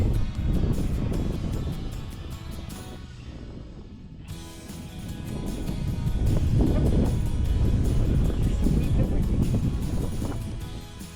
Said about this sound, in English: Hey, it is really windy